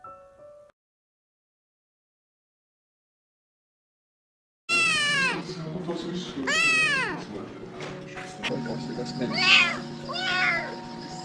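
A cat meows several times in loud, close, drawn-out rising and falling calls, with a shorter meow later and other household sounds mixed in after a stretch of silence.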